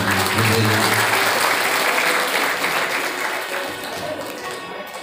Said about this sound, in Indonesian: Tepuk tangan buat ayah bukan.